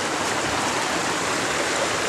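Flowing white water of a creek at a swing bridge campsite, a steady, dense rushing wash close by that holds constant from start to end with no voices.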